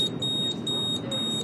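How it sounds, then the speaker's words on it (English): An outlet safety device gives a high-pitched electronic alarm after its test button is pressed, a piercing tone pulsing in rapid repeated beeps under a low steady hum, close and loud. "you can see there's an audible alarm"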